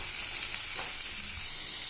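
Finely chopped onions fry in heated oil in a pan, making a steady, close hiss of sizzling with a faint scrape or two and no talking.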